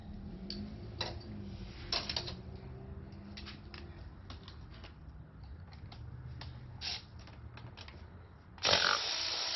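Ratchet clicks and light metallic ticks come from removing valve cover bolts on a Jaguar S-Type engine, quiet and irregular, with a louder rattle at the end.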